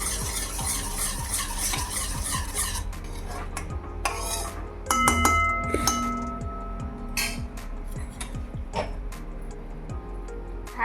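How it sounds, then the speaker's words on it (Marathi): Sugar syrup for traditional motichoor laddoos is stirred with orange food colouring in a pan, giving steady close scraping and stirring with occasional clinks of a spoon against metal and a faint sizzle underneath, no talking. "हा पाक असा मिक्स करून घेते"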